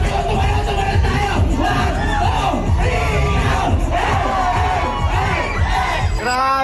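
A large crowd cheers and yells together in a sustained, dense roar of many voices, with shouts and whoops rising and falling throughout at close range.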